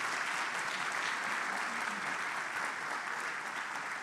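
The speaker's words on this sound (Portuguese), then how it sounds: "dá uma salva de palmas para ele, por favor" A church congregation claps steadily in a dense, even burst of applause, sustained and fairly loud throughout, with no pauses or cheering.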